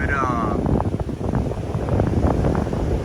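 Steady wind blowing through banana and shade trees beside a house in Antique, Philippines, a continuous broadband rush with gusty swells, close to the microphone and buffeting it, with a brief high chirp near the start.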